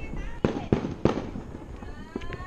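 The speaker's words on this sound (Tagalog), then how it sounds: "May paputok na." Fireworks and firecrackers bang during a New Year's celebration, three sharp loud blasts in quick succession followed by fainter crackles, with people chatting in the background.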